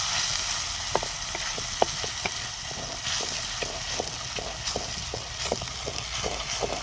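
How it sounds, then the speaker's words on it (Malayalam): Chopped tomato sizzles and fries in a pan for a Kerala-style fish curry, a steady close hiss broken by small crackles and soft scraping taps as the mixture is stirred. "നന്നായി ഇളക്കി കൊടുക്കാം."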